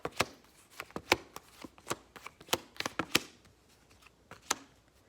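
Tarot cards shuffled by hand in a run of sharp, irregular riffling snaps and slaps, close and fairly quiet, with brief pauses between bursts and no talk.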